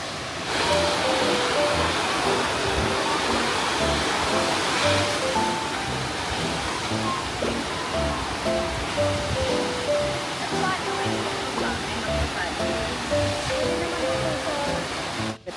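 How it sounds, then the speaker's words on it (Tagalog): Bomod-ok Falls in Sagada roars as a loud, steady rush of falling water throughout, with people talking faintly beneath it. "The beauty of Bumudok Falls."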